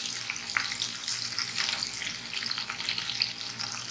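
Onion, garlic and ginger sautéing in a pan with spices for butter chicken, a steady close sizzle with light stirring scrapes and no voices.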